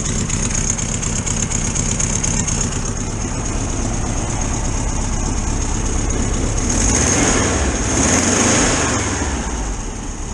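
A nearby VW T2 camper engine runs steadily and then revs up briefly before settling back, loud and continuous throughout, after a fuel starvation fault, with an exhaust leak.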